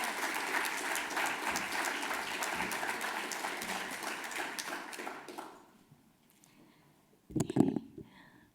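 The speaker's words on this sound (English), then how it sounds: "And listen to that applause" An audience at the OEGlobal24 Open Education Awards ceremony gives sustained, dense applause for about five seconds, fading out into near silence before a short, sharp burst of noise.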